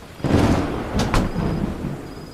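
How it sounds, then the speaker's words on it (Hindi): A steady roar of heavy rain, close and loud, with a low rumble swelling in and a couple of sharp knocks partway through. "बारिश भी बढ़ चुकी है।"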